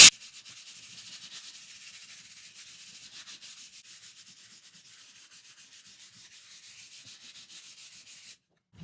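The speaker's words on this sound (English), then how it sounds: "I'm just going to sand." Hand sanding of chippy, painted salvaged wood, with steady rhythmic back-and-forth scratchy strokes, close and continuous, then a brief stop at the end.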